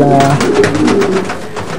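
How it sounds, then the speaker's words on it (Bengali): Rare foreign-breed pigeons at a pigeon farm in Bangladesh coo in soft, repeated throaty calls, close by, with a steady hum of more birds and faint background chatter. "পৃথিবীর বিভিন্ন দেশ থেকে সংগ্রহ করা হয় বিরল প্রজাতির এসব কবুতর"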